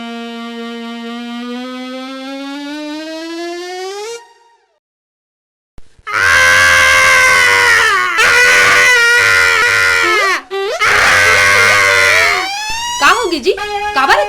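Loud, prolonged screaming at close range, first one long rising wail, then after a brief silence several strained, piercing screams with short breaks between them.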